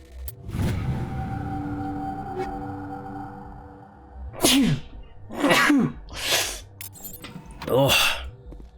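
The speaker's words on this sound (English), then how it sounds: "Oh, I might have to sneeze." A person sneezes several times in quick succession, each a sharp explosive burst, after a stretch of low in-game rumble and background sound from Mass Effect.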